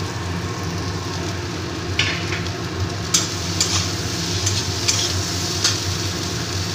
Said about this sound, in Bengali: আর 2টো পেঁয়াজ দিয়ে দিচ্ছি, একসাথে আমি সবগুলো ভেজে নেব